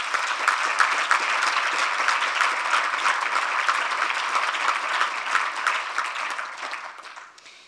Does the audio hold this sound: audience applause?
yes